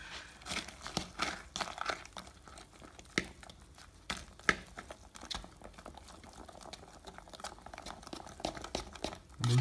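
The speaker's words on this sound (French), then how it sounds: "On va mélanger ça tranquillement." A chocolate mixture is stirred slowly in a bowl, giving quiet, irregular wet clicks and scraping taps from close by. Some sounds are sharper than others, and there is no speech.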